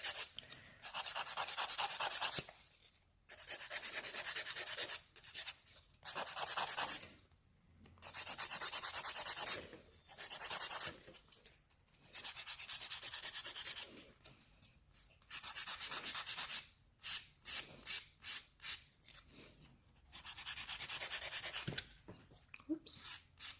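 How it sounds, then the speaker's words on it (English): Polygel stiletto nails being filed, bursts of rapid scratchy rubbing strokes close up, separated by short pauses, with quick back-and-forth strokes toward the end. "And we are just going to file it."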